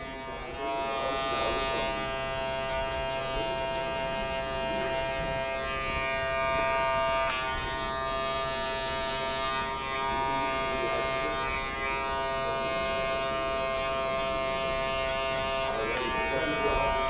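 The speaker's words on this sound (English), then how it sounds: "we're using just a trimmer and we're using just a clipper with a lever on it" An electric hair clipper with a guard cuts a burst fade, its close, steady motor buzz running throughout with slight changes in pitch as it moves over the hair.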